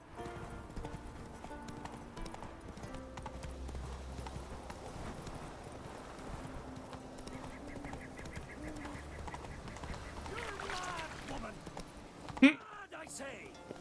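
Roach the horse gallops in The Witcher 3, a steady clip-clop of hooves running under game music and ambient sounds, with someone talking over it.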